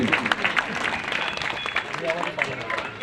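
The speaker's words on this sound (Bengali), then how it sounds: "প্রত্যেকে একটু হাততালি দেবেন এইটুকুনি আশা আমরা আপনাদের কাছে রাখি একটু হাততালি অন্তত দিন" Scattered audience clapping at a Trinamool Congress ward workers' meeting in Bardhaman, uneven and moderately loud, with crowd voices and murmur mixed in.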